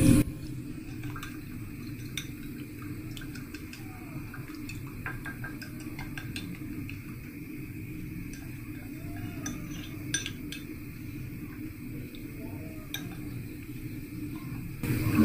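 Flour being mixed into a paste with a spoon in a small bowl, quiet clinking and tapping strokes repeated at an uneven pace over a low room hum, close by and with no voices.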